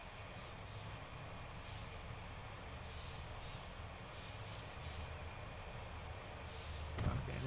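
Truck air brakes in the video game Transport Fever, a series of sharp broadband hissing bursts that repeat over steady low engine rumble, ending with a louder thump and release near the close, with no talk.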